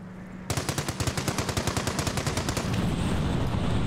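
In Company of Heroes, rapid automatic gunfire rattles against the base in a close, loud, even burst of about twenty shots, then gives way to a dense rumble of battle.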